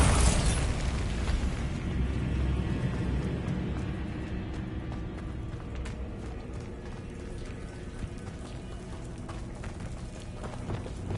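A Bombarda blasting spell erupts in a Harry Potter video game: a loud, close burst at the start that fades into a long rumbling, crackling tail with faint mechanical clicks.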